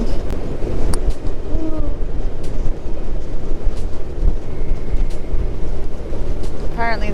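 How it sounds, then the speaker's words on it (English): Strong wind roars steadily across the deck of an Antarctic cruise ship near Elephant Island, loud and buffeting the microphone, while a person makes a brief exclamation. "Very windy out here."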